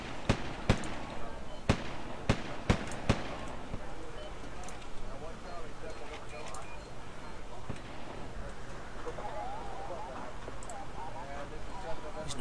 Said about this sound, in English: Time for drop the big bombs.